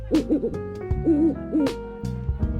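An owl at an owl enclosure gives a series of soft, rounded hoots in short groups, close and clear, with brief gaps between calls.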